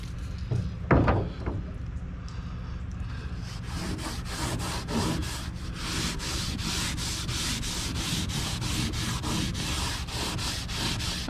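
Rhythmic abrasive scrubbing on a Gamefisher aluminum boat hull, close and repeated back-and-forth strokes settling into a steady fast rhythm after a few irregular scrapes at the start.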